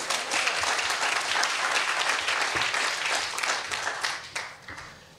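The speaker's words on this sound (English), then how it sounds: "Give another warm round of applause to Andrea Dance." A steady round of warm audience applause at a storytelling slam, many hands clapping evenly throughout and easing slightly toward the end.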